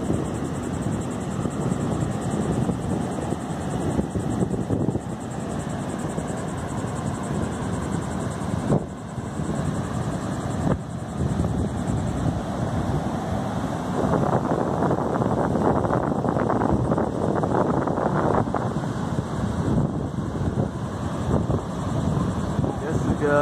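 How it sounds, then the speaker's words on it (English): Strong wind buffets a beach two days before Hurricane Dorian, a steady loud rushing roar with microphone wind noise throughout the clip. "I say the wind is about 20 miles per hour"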